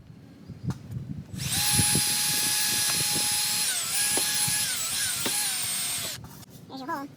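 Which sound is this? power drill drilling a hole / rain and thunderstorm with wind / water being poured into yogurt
power drill drilling a hole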